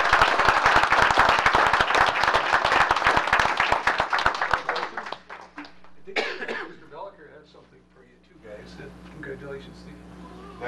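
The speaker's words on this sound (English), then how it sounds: "Can we give these guys a big round of applause?" City council audience gives a big round of applause for the students of the month, brisk close clapping that thins and fades out midway, followed by scattered coughs and quiet murmuring.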